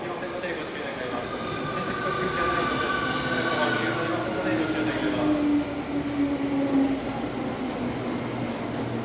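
A 251 series Super View Odoriko limited express bound for Ikebukuro pulls into a station, its rumble building as the wheels give a rising and falling squeal, with a platform announcement playing underneath.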